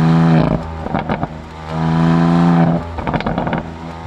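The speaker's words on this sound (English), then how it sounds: "the exhaust crackles and pops" A 2019 BMW M2 Competition's exhaust rumbles loudly, swelling and easing with throttle and breaking into short bursts of crackles and pops around the middle and end.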